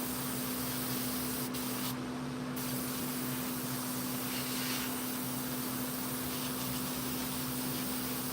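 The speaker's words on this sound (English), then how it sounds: "Get the boss lady airbrushing her stuff" An airbrush sprays paint onto chainsaw carvings, giving a steady soft hiss with a low hum beneath it that continues evenly throughout, with no talk over it.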